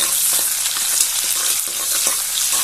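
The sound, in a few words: sautéing curry leaves and onion in oil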